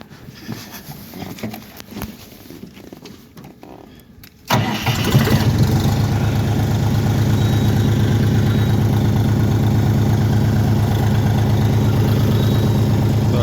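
A DTZ 5354 mini tractor engine starts after a low background rumble. It catches abruptly, then settles into a loud, even, steady idle close by.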